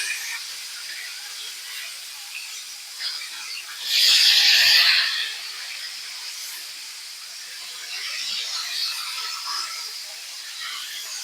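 Chicken pieces deep frying in hot oil, Filipino-style, give a steady soft sizzle that swells into a loud hissing burst for about a second, likely as the pieces are flipped, then settles back to a gentle crackle.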